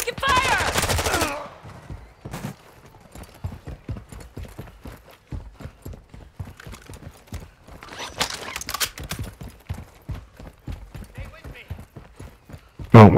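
Call of Duty gunfire, a string of sharp rhythmic shots ticking steadily at moderate loudness through much of the stretch, set between louder bursts at the start and near the end, with a voice speaking at points.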